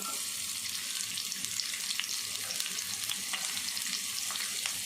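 Onions sizzle in a hot pan for a home-cooked rice dish, a steady close crackling hiss that runs throughout with light stirring scrapes and no voices.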